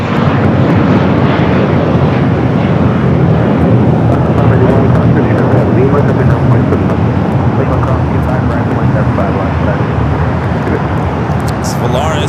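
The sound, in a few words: American Airlines A321 jet airliner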